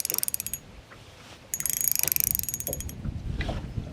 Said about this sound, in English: just so you can hear the sound of the Soare XR instead of the Presso